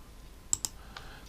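A computer mouse clicked on a software icon during a FreeRTOS STM32 programming session: two sharp close clicks in quick succession, then a fainter click, in a quiet room.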